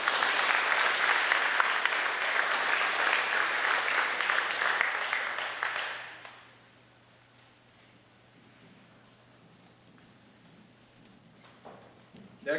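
Honored high school students at the Juneau Lions Paideia Honors Program get a full round of audience applause lasting about six seconds, then it stops abruptly and a quiet room with faint shuffling follows.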